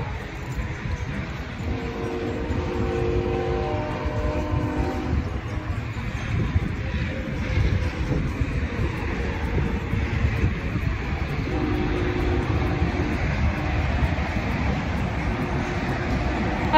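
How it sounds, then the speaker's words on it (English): Train passing on a trip toward Tampa, a continuous heavy rumble and clatter of rail cars with horn-like tonal blasts at the start and again later, heard from nearby without speech. "I hear the train."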